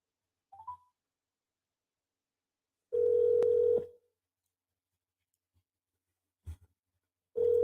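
Telephone tones while placing a call: a brief chirp, then a steady beep of about a second, a short click, and the tone starting again at the end, with quiet gaps between.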